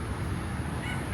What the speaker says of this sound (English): The cockerel is crowing.